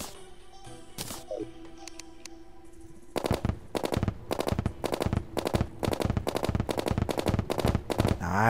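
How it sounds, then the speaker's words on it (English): Assault rifle firing in Terraria, a rapid regular burst of sharp gunshots from about three seconds in, preceded by a few isolated game effects. "Give me that assault rifle."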